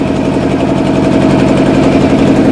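A launch boat engine runs on a Sundarbans river near Chandipur and Gosaba, a loud, steady, low idling drone with constant vibration throughout.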